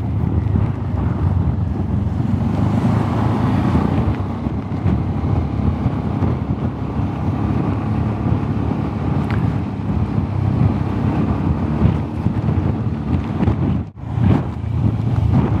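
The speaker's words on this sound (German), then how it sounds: "Und wieder extrem windig heute." Strong wind buffets loudly and continuously on a seaside promenade in England during a ride on a BMW C 400 GT scooter, with a brief dip near the end.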